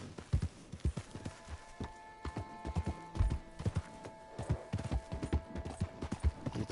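A horse in the Red Dead Redemption 2 video game clip-clops along in an irregular, continuous patter of hooves at moderate volume, with faint background ambience and no talking.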